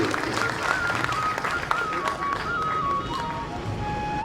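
Teachers' Day audience in Kotdwar, Uttarakhand, clapping to welcome a guest. The applause is dense and sustained throughout, with a faint whistle-like tone gliding above it.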